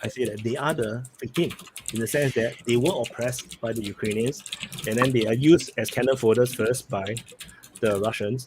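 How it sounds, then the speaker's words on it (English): Fast clattering typing on a loud computer keyboard runs beneath continuous close male speech, the keystrokes faint and steady behind the talking. "A very loud keyboard."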